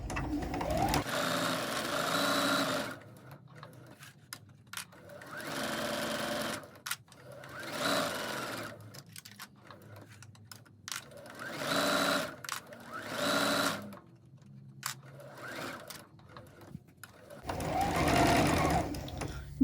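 A sewing machine stitches through layers of fabric in bursts of rapid mechanical whirring, starting and stopping repeatedly with short quiet pauses between runs, close and clear.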